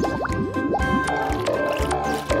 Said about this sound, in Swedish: Bubblor! Massor av bubblor.